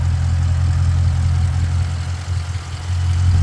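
A 2018 Dodge Challenger SRT with a 392 Hemi V8 idles with a steady, deep low rumble, loud and close, with no talking.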